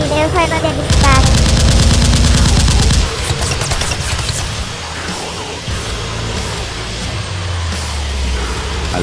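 Rapid, loud bursts of machine-gun fire from a truck turret aimed at an airplane's turbines, very dense for the first few seconds, then continuing as steadier, slightly lower rattling gunfire with a rumbling background.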